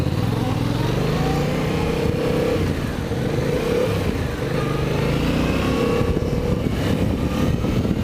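A Yamaha MT-07 motorcycle engine droning close up, its pitch stepping down and burbling with engine braking as the rider shifts down, steady and loud throughout.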